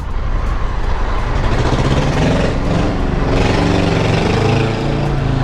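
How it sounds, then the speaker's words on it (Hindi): A superbike fitted with a full-system Akrapovic aftermarket exhaust rumbles loudly and close, a dense, steady engine roar with a throaty low end that swells slightly partway through, set on a street in Goa. "ओहो, आफ्टर मार्केट एग्जॉस्ट, क्या बात। Full system Akrapovic exhaust."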